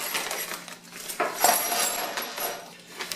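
A bag of Dust Deputy hardware bolts being cut open and handled, light metallic clinks and rattles of small bolts shifting against each other amid plastic rustling, close and fairly quiet.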